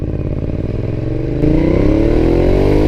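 A 2012 Ducati Diavel motorcycle engine idles with a loud, lumpy rumble, then revs up and holds a higher, rising roar, close by and alone.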